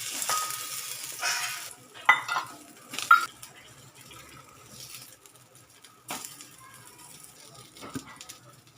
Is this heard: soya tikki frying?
yes